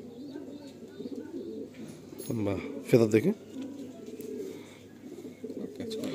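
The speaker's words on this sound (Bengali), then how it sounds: "এগুলো ধাড়ি পায়রা যেহেতু" Adult pigeons in a loft give low cooing calls, with a louder burst of coos near the middle, under steady conversation.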